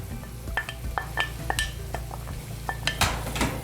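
Diced celery sizzling in butter with onions in a pan, with a steady fry under repeated sharp clinks and scrapes of a utensil against the pan, close up.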